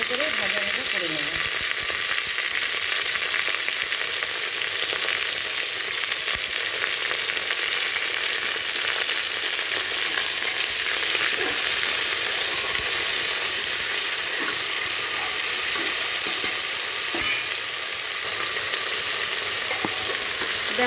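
Mixed vegetables for khichuri, including pointed gourd, radish, long beans, aubergine, potato and green chillies, fry in a pan. A continuous bright sizzle runs throughout, with occasional scrapes and stirring sounds.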